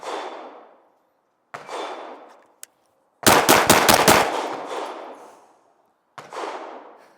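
Rapid pistol fire from a BUL Armory SAS II Tac at close range on an outdoor range: a quick string of about six or seven loud sharp shots with long echoing tails, set between other distant bursts and single cracks.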